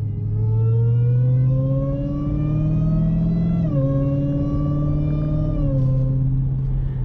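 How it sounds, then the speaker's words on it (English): Supercharger blower whine from a 1100 hp Dodge Charger Redeye Widebody on drag radials, a loud high-pitched whine rising steadily with engine revs, dipping as the throttle eases, then climbing again over a deep exhaust rumble. "So I prefer this sound of the supercharger over anything."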